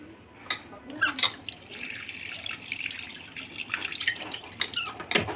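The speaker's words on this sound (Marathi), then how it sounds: "आधी मी जरासा धुवून घेते हे पाण्याने" Water splashes and trickles while a used, oil-blackened copper or brass pot is rinsed, with scattered clinks and squeaky scrubbing sounds, fairly close and steady, with no one talking.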